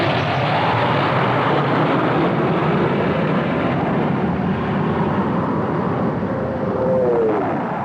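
A French-built Breguet Alizé anti-submarine propeller aircraft roars steadily and loudly throughout, a dense continuous engine drone with a slight swell near the end.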